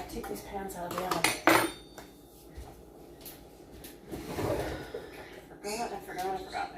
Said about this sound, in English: Oh, I forgot to take these pans out of the oven.